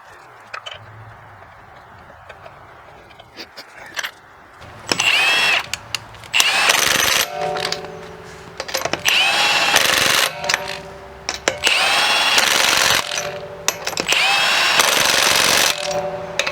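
An impact wrench or power drill runs lug nuts onto a Ford Mustang S197 wheel, with repeated loud whirring bursts and ratcheting buzzes separated by short pauses, close up, after a quieter opening.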